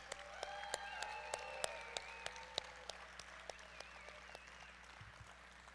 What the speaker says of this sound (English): let's give a round of applause for all of the breweries that submitted